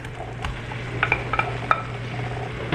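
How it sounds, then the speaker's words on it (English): Fried eggs added and stirred into a sizzling tomato masala in a pan, a steady soft sizzle beneath several light scraping and clinking strokes of a spoon against the pan, with no talking. "Now we will add the fried eggs"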